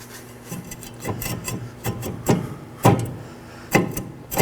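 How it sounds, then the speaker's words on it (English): A brake rotor on a 2018-2024 Chevrolet Equinox 1.5L is worked off the hub, making close metallic scraping and grinding rubs in uneven bursts with a few sharper clunks. "Now let's remove our rotor"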